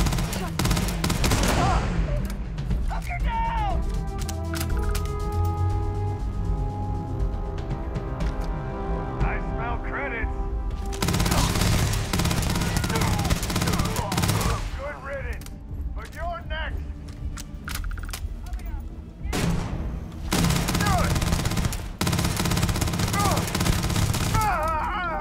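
Rapid bursts of gunfire from the video game Starfield, loud and dense, broken by short pauses, with clanking weapon mechanisms and game sounds underneath and occasional talk.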